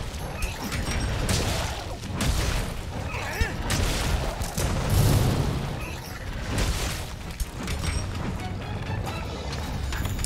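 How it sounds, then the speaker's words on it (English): Dense, continuous barrage of blasts and crashing booms with clanking mechanical noise in Monster Hunter World: Iceborne combat, loud and sustained throughout. "So much explosions."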